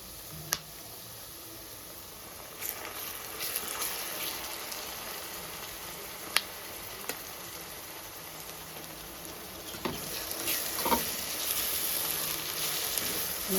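Masala for a Telugu fish curry fries in a pan, giving off a quiet, steady sizzle with a few faint clicks and crackles scattered through it.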